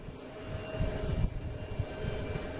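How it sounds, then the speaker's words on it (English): Delta jet airliner taking off from runway 15 right, bound for Barcelona, a distant, low, steady engine roar that swells slightly midway, heard alone. "1-5 right for takeoff. That is a Delta heading to Barcelona."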